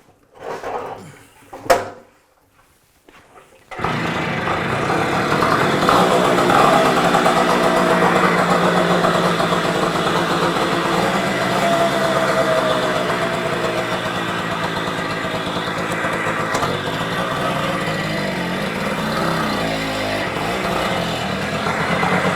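A moped engine, a Kreidler Florett or Honda MT5, fires up after a couple of kicks and a few sharp clunks, then runs continuously at a steady buzzing idle close by for about twenty seconds.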